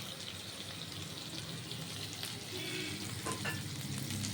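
Paneer and potato curry with salt, turmeric and sugar fries quietly in a pan, a soft continuous sizzle with faint stirring scrapes and a light watery clink near the end.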